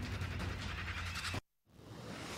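Fireworks bursting during a street celebration in a city, a dense loud crackle of rapid overlapping bangs that cuts off abruptly, then a brief silence before distant noisy crowd ambience returns.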